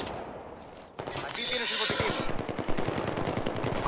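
Gunfire in Battlefield 3, rapid machine-gun bursts rattling steadily in the middle distance, starting after a quieter opening second and continuing to the end, with a voice talking over it.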